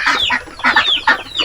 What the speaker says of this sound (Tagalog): Ang kukulit ng ating mga native na manok.